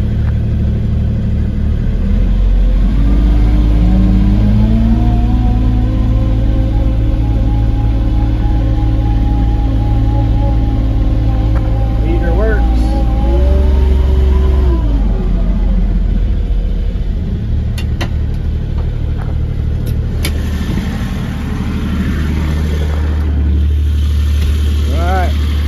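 A Kubota RTV 1100 4x4 diesel utility vehicle runs close by with a steady low rumble, its pitch rising and falling through a couple of revs and sustained throughout, with a voice talking over it.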